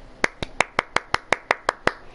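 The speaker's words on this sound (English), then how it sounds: "Golf clap." Slow, even hand claps in a golf-clap rhythm, ten crisp claps at a steady pace up close, with no other sound.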